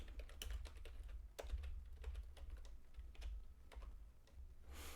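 Code being typed on a computer keyboard during a Unity C# tutorial: quick, irregular runs of crisp key clicks close to the microphone, with no voice over them.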